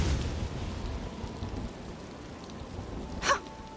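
A storm's rain in the Elder Scrolls Online video game, with a soft, steady hiss of falling rain and a low rumble, fading slightly over the clip, with one sharp crack near the end and no talk.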